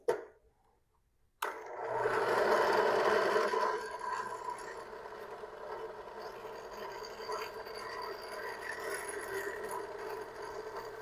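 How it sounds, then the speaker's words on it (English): A power drill bores into the metal stem of a homemade metal detector: a sharp click, then a close, loud whirring grind that eases into a steadier, slightly quieter drone with a faint rattle for the rest of the clip, and nobody talks. "So I was drilling to the side of the hole I marked"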